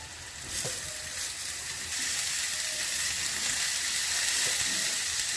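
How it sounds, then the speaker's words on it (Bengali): Shredded cabbage goes into a pan of fried spices, setting off a steady, loud sizzle that builds and holds, with a few light clinks of stirring. "মশলা কষানো হয়ে গেছে, এবার আমি বাঁধাকপিগুলো দিয়ে দিচ্ছি।"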